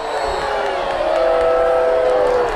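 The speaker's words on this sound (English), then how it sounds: "The Bedford crowd not liking a little bit of a shove that one of the Central players gave the Bedford return man." High school football crowd at a Bedford versus Manchester Central game reacts with a steady, loud wash of voices and jeers after a shove on a kick return, filling the whole moment without a break.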